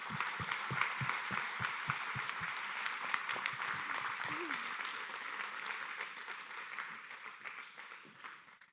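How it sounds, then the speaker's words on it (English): A crowd at a Decker Truck Line driver awards ceremony applauds the drivers, with dense, continuous clapping and a few distinct nearby claps early on, gradually thinning out at the end. "can we get a round of applause for all these fantastic drivers today?"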